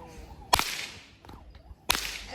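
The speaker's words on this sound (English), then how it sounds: "That's the important part when you crack the whip." A whip cracks twice in an open outdoor farm setting, each crack a sharp, loud snap separated by about a second and a half, with faint background noise between them.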